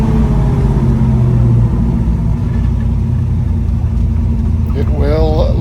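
A 1964 Chevy II Nova SS Sport Coupe drives along a road, its engine giving a steady loud low rumble that climbs slightly under acceleration, with a voice talking over it near the end.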